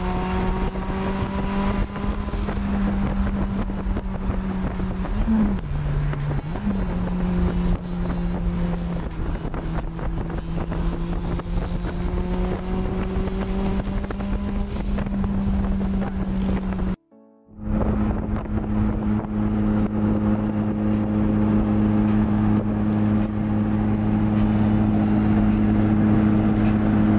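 A Lotus Exige on a 140-mile road trip, about 70 miles in, runs at a steady cruise with a loud, continuous engine drone and road and wind roar, briefly dropping out near the middle before resuming.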